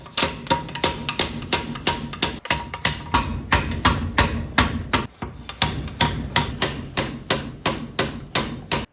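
A slide hammer working a bearing off a Coleman trailer axle: a steady run of sharp metallic knocks, roughly three per second, loud and close, continuing with only brief pauses.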